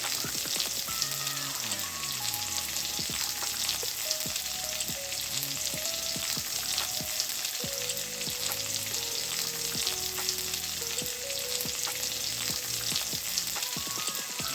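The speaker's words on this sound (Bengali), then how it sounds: "কুচনো পেঁয়াজ এবং কাঁচা লঙ্কা দিয়ে ভালোভাবে ভেজে নিয়েছি যতক্ষণ না পেঁয়াজ লালচে হয়ে আসে" Chopped onion and green chili fry in a pan, giving a steady, close sizzle under a soft melodic background tune that runs the whole way through.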